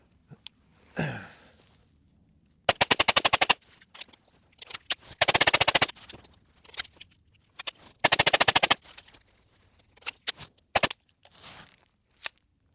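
Suppressed .22 rifle with a HuxWrx Flow 22Ti suppressor, firing CCI copper-plated 45-grain rounds: a string of sharp, fairly close cracks in uneven rhythm, with clusters of rapid clicks and mechanical handling noises between the shots.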